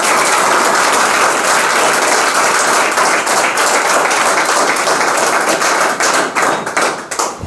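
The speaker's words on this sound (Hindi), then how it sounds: "देश को दे दिया लड़के, ताली बजाओ जरा।" A group of people claps loudly and steadily during a sit-down interview, close dense applause that grows more uneven and scattered toward the end.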